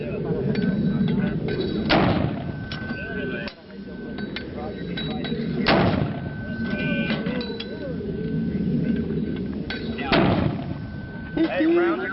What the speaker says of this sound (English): The Mortar Men Marines that I was with are shooting mortars from inside the base to up to miles outside of the base.